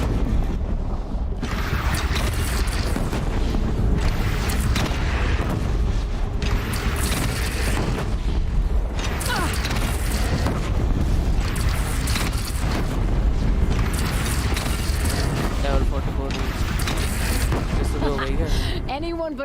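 Booming cannon shots and mechanical clatter in a battle against a bandit clan in Horizon Zero Dawn, repeated heavy blasts over continuous dense combat noise, with voices talking throughout.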